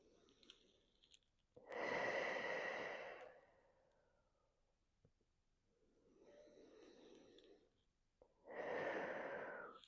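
Slow, deep breaths during gentle stretching for period relief: a long audible exhale, a quieter breath, then another full exhale, each close and soft with near silence between.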